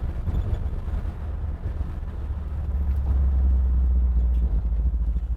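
A 1952 Chevrolet pickup truck drives along, its engine a low, continuous rumble that swells slightly midway, with wind buffeting the microphone and no talking.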